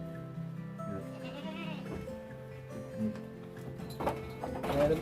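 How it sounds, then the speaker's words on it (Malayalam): Crossbred goats bleat repeatedly at close range on a small farm, several overlapping wavering calls rising toward the end over a steady background. "സങ്കരയിനം ആടുകളാണ്"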